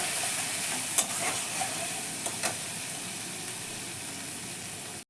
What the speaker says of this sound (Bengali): এবার আমি জাস্ট 1 ফোঁটা জল দিয়ে এই মশলাটাকে সুন্দর করে এখন কষে নেব